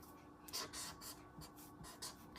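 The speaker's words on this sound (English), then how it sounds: "I'm going to write" A pen scratches across a placemat in short, rhythmic strokes, quiet and close, with a slightly louder tap at the end.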